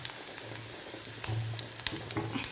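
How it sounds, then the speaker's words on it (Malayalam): Ginger and garlic fry in hot oil after mustard seeds have popped, making a steady, close sizzle with small crackles and faint stirring, for an egg roast. "കടുക് പൊട്ടി ഇനി നമുക്ക് ഇഞ്ചിയും വെളുത്തുള്ളിയും ഇട്ട് കൊടുക്കാം"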